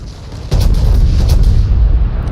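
Battleship guns fire a salvo in a naval warship video game: a sudden heavy boom lands about half a second in and rolls into a sustained loud, low rumble that carries to the end, with no voices.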